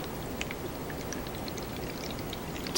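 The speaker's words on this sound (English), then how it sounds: "Pouring the water in." Water is poured into a container of soil, a soft continuous trickle with faint droplet patters, steady and low in level.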